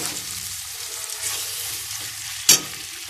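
Onion and tomato fry in a pan for a chicken curry, a continuous soft sizzle with stirring scrapes and a sharp utensil clink near the end.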